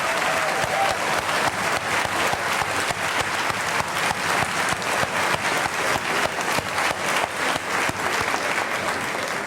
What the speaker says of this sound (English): can we please give her one more round of applause?